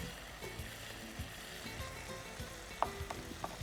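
Turmeric, chili, pepper and coriander powders frying in a pan, a faint low sizzle with occasional soft clinks and scrapes of stirring.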